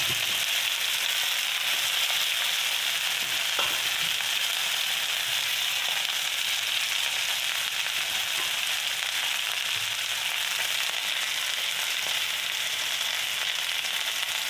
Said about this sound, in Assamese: এতিয়া মই ইয়াতে ঢেকীয়াখিনি বহাই দিম, কাটি লোৱা ঢেকীয়াখিনি